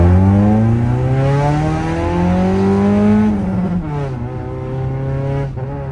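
Modified car at an auto show, driving along a main road, its loud close engine climbing through the revs in repeated pulls with shifts between them, no talk.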